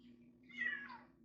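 A single short cat meow, faint and rising then falling, over a low steady hum with no talking.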